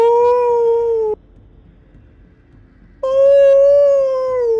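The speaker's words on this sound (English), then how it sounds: "awful howling sound coming from the gate" Awful howling from a castle gate: two long, loud, sustained canine-like howls, separated by a pause of near silence.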